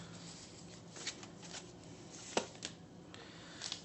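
Tarot cards shuffled during a love reading, giving soft, quiet riffling with a few sharper flicks and slaps scattered across the stretch, heard alone without talk.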